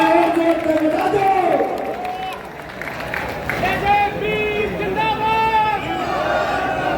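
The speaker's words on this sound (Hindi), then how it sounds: "जोरदार तालियां। अरे एक जोर से बजा दो" Crowd at a political rally in Sirsa, Haryana, applauding and cheering steadily for about seven seconds, with shouted voices and babble mixed through the clapping.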